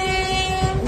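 A passenger train running, heard from on board: a steady, loud horn tone over rolling rumble, continuous for the whole short moment.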